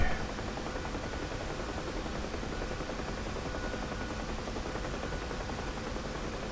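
A Bell UH-1 Huey helicopter flies in the DCS simulator, its rotor and turbine giving a steady, dense, noisy roar that stays constant and fills the whole stretch.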